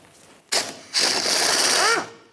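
A 10mm socket on a ratchet turns a control arm bolt on a 1997-2003 Pontiac Vibe. A brief burst of ratcheting is followed by a longer, loud, steady run of clicking and whirring, close by, ending with a short squeal.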